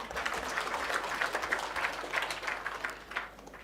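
Members of a Dhamini Sacco gathering clap for themselves, a continuous crowd applause with dense overlapping claps, fairly even in level and heard from across the hall.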